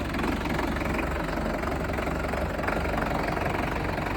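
An Indofarm 3055 tractor's diesel engine runs steadily as the clutch is released, a loud, close, continuous low throbbing rumble with no talk.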